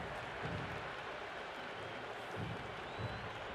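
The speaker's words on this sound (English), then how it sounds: "There's a buzz, a real buzz coming from the stands." Steady stadium crowd buzz from the stands in the cricket video game Cricket 26, a dense continuous roar at moderate level with faint swells, no clear talk over it.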